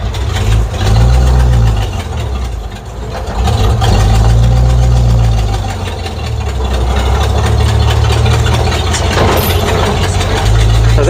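A vehicle stuck in third gear drives through downtown Charlotte, its engine giving a loud, steady low drone with slow rises and dips in pitch throughout.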